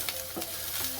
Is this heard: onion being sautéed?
yes